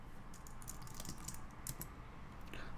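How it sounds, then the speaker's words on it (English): Quick, steady typing on a computer keyboard, with light, fast key clicks running evenly throughout and no one speaking. "Let's try typing this out."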